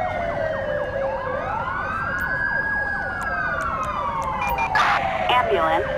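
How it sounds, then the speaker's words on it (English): Ambulance siren in GTA V during an airport police patrol at Los Santos International Airport, a loud wailing tone sweeping up and down continuously over steady traffic noise, with a second overlapping siren and a brief voice near the end. "I've called in an ambulance for this person."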